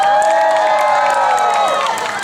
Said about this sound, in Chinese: 我们热情的掌声加尖叫声给这一些辛苦的朋友们